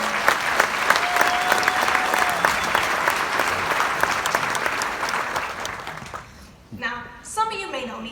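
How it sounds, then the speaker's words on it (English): A graduation ceremony audience applauds loudly and steadily for several seconds, the clapping thinning and fading out near the end as a few voices and cheers rise briefly. "give yourselves a round of applause"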